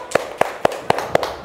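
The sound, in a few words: applause, class clapping for group 1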